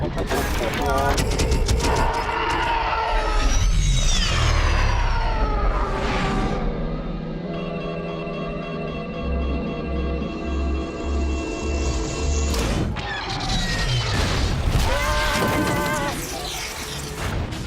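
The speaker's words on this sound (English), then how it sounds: "Shields won't hold long under this barrage" Star Wars Rebels space battle with TIE fighters: dense, loud blaster fire, explosions and roaring engines fill the whole stretch, with rumbling booms and rapid bursts, while voices speak over parts of the action.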